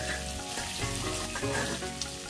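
Chopped onion, sliced lengthwise, sizzles and fries steadily in a pan over a wood-fired clay stove, a continuous loud crackle with occasional stirring scrapes and no voices.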